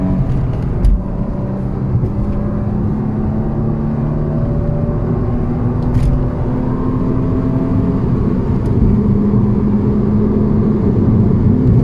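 A 1992 Audi Coupé Quattro V6 pulls steadily under acceleration, its engine note a continuous droning hum with rising tonal bands, heard from inside over constant road and tyre noise.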